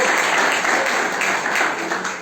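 A church congregation applauds together in a steady, dense burst of clapping that fills the room and tapers slightly toward the end, with no speech over it.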